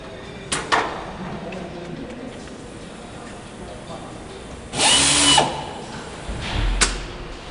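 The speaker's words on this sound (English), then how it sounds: "fitting doorway rivets before moving on to the two top skins" Rivets fitted in the doorway of the Lancaster bomber NX611 under restoration, sounding as a few short sharp pneumatic bursts and clicks spread apart over quiet workshop background, with one longer, louder burst midway.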